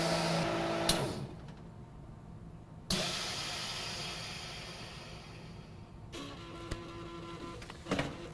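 MVS vacuum sealing machine drawing down and sealing a bag across its seal bar at 90% vacuum pressure, a loud pump rush that cuts off abruptly, followed by a quieter mechanical whir and clicks.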